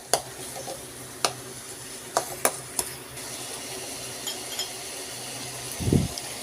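Potato and paneer are stirred in a pan, with a few sharp scraping clicks and soft sizzling at moderate distance over a faint background hum, ending in a brief low thump and no speech.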